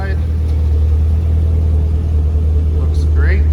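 A 2014 Chevrolet Camaro ZL1 convertible runs with a steady, deep, loud engine rumble throughout, close by and unchanging, while someone talks over it.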